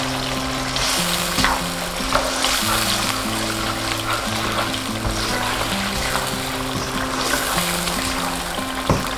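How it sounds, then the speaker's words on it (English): Food fries in a pot as paprika powder and salt are stirred in, giving a steady close sizzle and crackle with scraping stirs, under continuous background music. "I'm going to give it a quick stir"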